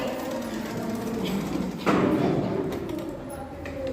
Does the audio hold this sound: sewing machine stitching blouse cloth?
yes